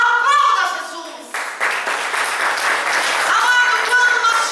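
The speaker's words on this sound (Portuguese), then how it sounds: "Aplauda Jesus" Congregation applauding in church during a Portuguese-language sermon, clapping that breaks out after a preacher's voice and continues with cheering and voices mixed in.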